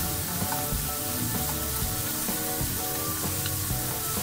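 Potato chips sizzle steadily in hot oil, a dense crackling hiss with occasional stirring noises and faint musical tones underneath.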